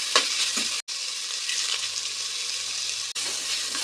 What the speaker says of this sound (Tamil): வெங்காயம் நல்லா வதங்கி கலர் மாறிடுச்சுங்க